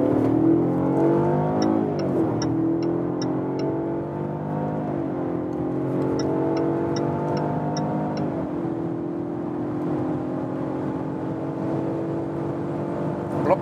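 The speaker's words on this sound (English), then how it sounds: "the acceleration was quite decent. Also the sound, you know, it's a four-cylinder engine" Jaguar XE P250 facelift with a four-cylinder engine accelerating hard from low speed: rising engine drone climbing through several gear changes, with tyre and wind noise heard from inside the cabin and faint ticking in the background.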